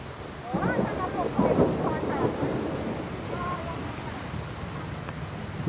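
A low rumble of thunder rolls in over steady morning rain in Bangkok, swelling and then fading into the background wash of rainfall.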